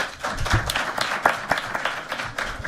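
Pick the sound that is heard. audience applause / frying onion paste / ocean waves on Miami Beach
audience applause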